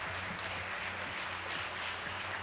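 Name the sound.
audience applauding an announcement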